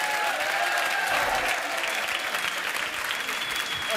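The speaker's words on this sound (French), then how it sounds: "S'il vous plaît, faites du bruit pour Alain Lanty" A studio audience at a live French radio session applauds loudly and continuously, a dense clatter of many hands clapping close by throughout.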